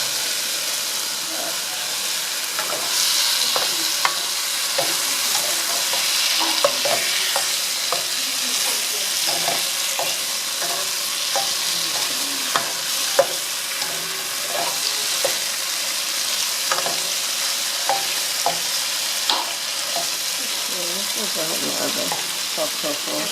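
Firm tofu stir-fries in a wok for mapo tofu, a constant loud sizzle and steamy hiss broken by repeated scraping and clacking of a spatula, with occasional quiet voices in the background.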